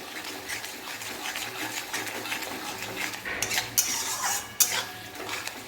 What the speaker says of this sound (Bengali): একটু জল দিয়ে ভালো করে মশলাটা নেড়ে নেব।